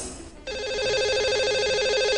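A telephone rings for a radio station's lucky caller segment, a loud warbling electronic ring starting abruptly and continuing steadily without talk.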